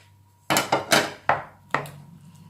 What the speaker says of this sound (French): en mettant nos champignons dans notre béchamel. Hop, idem pour le jambon blanc. On va mélanger tout ça.